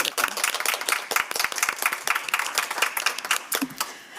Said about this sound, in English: I would like to offer a little round of applause